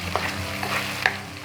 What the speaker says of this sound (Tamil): அந்த அளவுக்கு கலந்து விடுங்க.